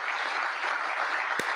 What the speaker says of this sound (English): Let's clap for Trump